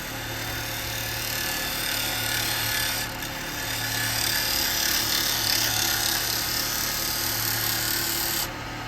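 A carbide tool makes a finishing cut on a spinning piece of wood on a lathe, giving a continuous loud scraping hiss over a steady motor hum with a brief dip partway through.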